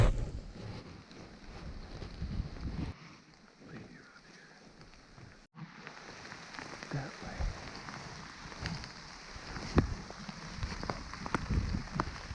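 Rain falls in the woods during a rut-season deer hunt on Illinois public land, a steady close patter on gear and leaves mixed with wind gusts on the microphone and occasional louder drops.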